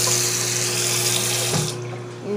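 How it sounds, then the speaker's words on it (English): Tap water runs steadily into a sink while a fork is rinsed under it, a loud continuous splashing with a faint steady hum beneath, ending abruptly as the flow changes. "You want to turn your water on. Wash the fork off."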